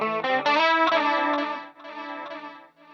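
Electric guitar in drop D tuning played through a KMF-1 multi-effects pedal set to a detune effect, a sustained thick, shimmering chord with a slight wavering doubled tone, loud and up close.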